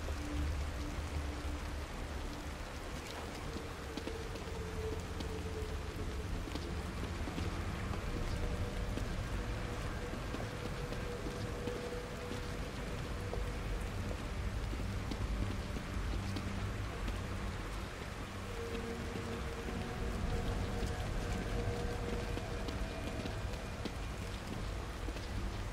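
Steady, dense rainfall in The Evil Within, a continuous hiss of drops pattering on surfaces, moderately quiet and unbroken throughout with no voices.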